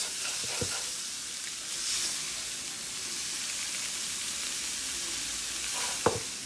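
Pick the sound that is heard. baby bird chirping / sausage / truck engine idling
sausage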